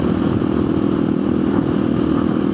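Motorcycle engine running steadily and loud at close range throughout, a continuous droning rumble with a rattly edge and no talking.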